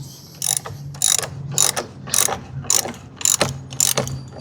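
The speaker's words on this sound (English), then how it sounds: "We're gonna continue to use our 10mm socket so we can tighten this up." A ratchet with a 10mm socket tightens the battery terminal on a 2022 Jeep Renegade. Close, loud bursts of clicking come in about eight quick strokes with short pauses between them, and no voices.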